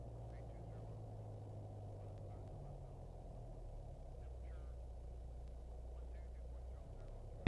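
A small aircraft engine idles during a pre-takeoff run-up check, giving a steady, close, low rumbling drone that holds level throughout with faint cockpit noise above it.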